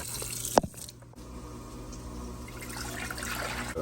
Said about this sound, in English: So we're gonna need 6 cups of water for our rice.